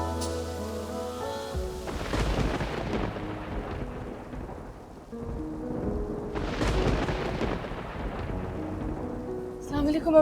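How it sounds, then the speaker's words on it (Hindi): Heavy rain with rolling thunder in a drama scene, a loud broadband rumble and wash that swells twice beneath a musical score, with no voices. "बारिश इतनी तेज होने लगी"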